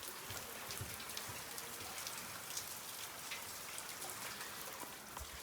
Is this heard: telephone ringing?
no